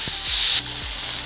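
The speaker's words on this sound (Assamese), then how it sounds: "তেলখিনি মই গৰম হৈ গৈছে এটা ইয়াতে মই পিয়াজখিনি ফ্রাই কৰিম" Sliced onions fry in hot oil for a paneer masala, giving a steady bright sizzle with a few low knocks of stirring in the pan, close and continuous with no voices.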